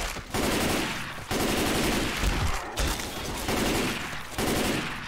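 Sustained automatic gunfire in Left 4 Dead 2, dense loud bursts of rapid shots repeating in several stretches with brief gaps between.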